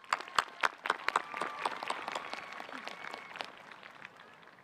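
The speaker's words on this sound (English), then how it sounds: "Give yourselves a round of applause." Applause at a high school graduation ceremony for the class of 2023 begins with several sharp, close individual claps, then swells into a broader, softer crowd clapping that gradually thins out.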